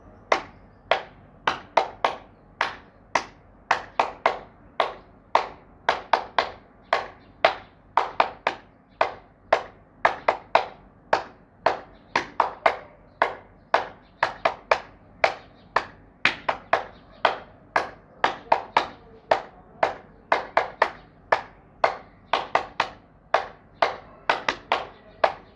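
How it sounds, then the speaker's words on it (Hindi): Hands clap sharply and rhythmically during a yoga clapping exercise, dozens of crisp claps in steady quick bursts and grouped patterns, close and clear with no talk over them. "सबसे पहले हम ताली बजाते हैं"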